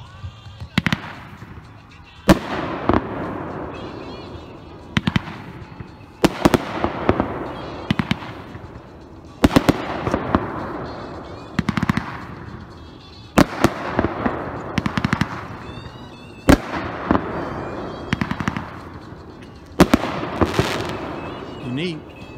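Fireworks demo of the 76 Fireworks Cerdo Loco: a string of sharp, loud outdoor bursts every few seconds, each followed by crackling and hissing tails, with some distant background noise between shots.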